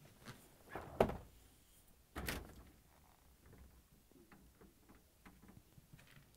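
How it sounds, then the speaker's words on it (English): Both French doors of an LG/Kenmore refrigerator opening, a sharp thunk followed by a second louder clunk, then faint rattles and light knocks in a quiet room. "To get to the part, we need to open both French doors."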